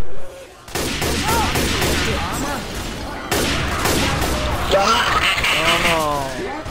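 Gunfire in the video game Left 4 Dead 2 crackles beneath continuous loud talking and shouting, with bursts of shots mixed into the busy, cluttered sound.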